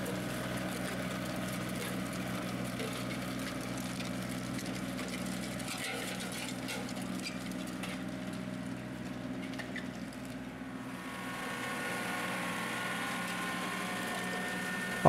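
A tractor engine hums steadily while pulling a disc harrow across a field, a low continuous drone at moderate distance with faint clanking, easing briefly before resuming.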